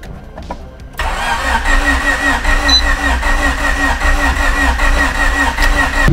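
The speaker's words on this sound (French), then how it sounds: "Après plusieurs essais, ça a démarré." Honda Civic EP1 track car engine cranking and catching, a short starter whir followed by the engine firing up into a steady, loud rough idle close by.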